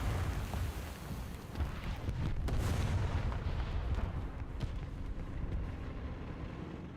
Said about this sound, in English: There's multiple artillery strikes in town.